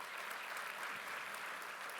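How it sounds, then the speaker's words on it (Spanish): Steady applause from an audience in a national assembly hall, a dense, even clapping that continues without a break at moderate volume. "para quien también pido un fuerte aplauso."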